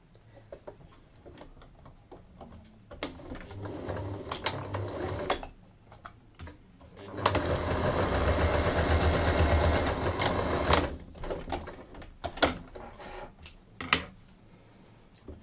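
A sewing machine runs a seam on a simple Japanese bag, with a sustained burst of stitching in the middle, framed by scattered clicks and handling taps before and after.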